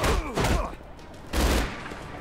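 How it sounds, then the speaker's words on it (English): Gunfire bursts in the Marvel Strike Force video game, two heavy volleys of shots with booming low thuds, separated by a brief quieter gap, loud and close. "I'm going to keep shooting you."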